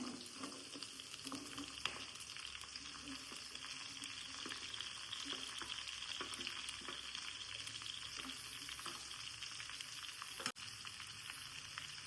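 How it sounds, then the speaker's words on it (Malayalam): Onions fry with garlic and green chillies in a pan for an onion curry, a steady close sizzle with frequent crackles and stirring taps running throughout. One sharp knock comes near the end, and no one speaks. "അതിലേക്ക് നമ്മൾ എടുത്തു വെച്ചിരിക്കുന്ന ഉള്ളി ഇട്ട് കൊടുക്കാമേ"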